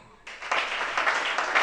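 Church congregation applauding at a worship service in Gabon, a dense, steady wash of many hands clapping that swells after a quiet start and carries on at close range.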